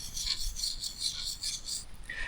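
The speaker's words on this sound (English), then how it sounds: "Now, I was taught when sharpening knives," A Swiss-made full-tang Fallkniven knife is drawn across a whetstone in steady, gritty rasping strokes, several passes in a row, close and fairly clear in a wilderness camp setting.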